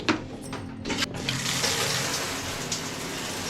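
Shower water runs with strong pressure in a sleeper compartment on Amtrak's Empire Builder, a hissing spray that starts with a few sputtering bursts, then settles into a continuous close rush.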